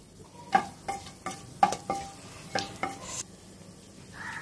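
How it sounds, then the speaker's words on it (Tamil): Whole spices (bay leaf, cloves, cinnamon, star anise and cardamom) dropped into hot oil for a chicken salna, giving a series of short crackles and pops with light stirring, fairly quiet and alone. "பிரிஞ்சி இலை, ஒரு 4 கிராம்பு, ஒரு பட்டை, ஒரு ஸ்டார் ரைஸ், 2 ஏலக்காய். இதை ஃபஸ்ட்டு தாளிச்சுப்போம்."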